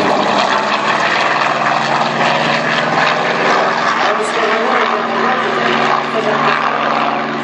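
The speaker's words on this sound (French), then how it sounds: "Voilà un passage lent du Sky Raider avec le train et les volets sortis" A Douglas Skyraider piston propeller aircraft making a slow pass with landing gear and flaps down at an air show, a loud, steady engine drone that fills the whole stretch, with talk over it.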